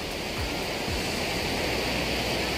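Ocean waves wash steadily along a beach at Kuantan, a continuous broad roar of surf with no distinct breaks and no talking.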